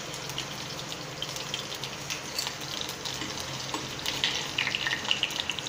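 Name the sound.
mustard seeds and garlic spluttering in hot oil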